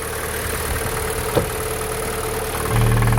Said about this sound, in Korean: 가솔린 엔진만큼 엔진 소리가 아주 정숙합니다.